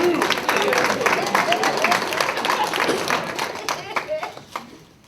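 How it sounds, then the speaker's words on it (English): A small audience claps for a few seconds, a lively burst of hand claps that thins out and dies away, with voices mingled in. "a round of applause for Anthony for taking one like a man"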